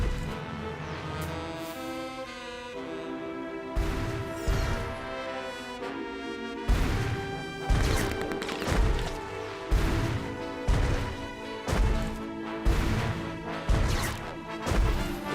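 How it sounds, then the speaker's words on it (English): Objects are smashed across a city in the Sam & Max video game, with repeated loud crashing whacks in an uneven rhythm over a steady musical backdrop. "pointlessly smashing everything in sight"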